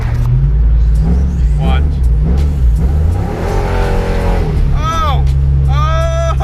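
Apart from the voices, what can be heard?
cammed 5.3 V8 engine revving, dropped into third gear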